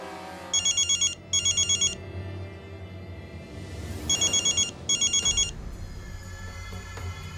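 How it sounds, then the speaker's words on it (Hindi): A telephone rings in a tense domestic scene, four quick electronic trill bursts in two pairs, a pause, then two more pairs, clear and fairly close over a low room hum. "विनय को फोन लगा"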